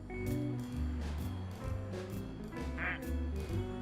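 Cartoonish duck quacks in a video game, several loud honking quacks in a bouncy rhythm over game music, close and clear.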